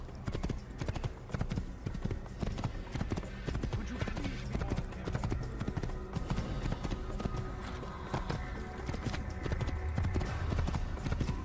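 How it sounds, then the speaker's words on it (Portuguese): A horse in Assassin's Creed gallops in a fast, continuous drumming of hooves that stays loud and close throughout, with a little speech mixed in. "esse cavalo aqui desse jogo é muito bom"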